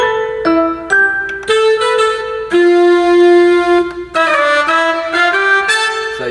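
A Yamaha Genos keyboard on a Christmas setting plays a bright layered mix of voices. Distinct plucked notes and held chords alternate in a lively melodic run, close and clear, with no voices.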